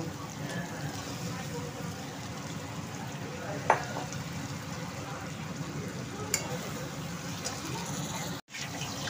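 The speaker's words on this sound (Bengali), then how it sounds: "এটা একটু অনেকক্ষণ ধরে মাংসটাকে কষতে হবে যাতে কোনো জল না থাকে।" Mutton frying with chilli powder and turmeric in a pan, a continuous low sizzle with a few ladle knocks and scrapes, moderately faint and close, with some talking in places.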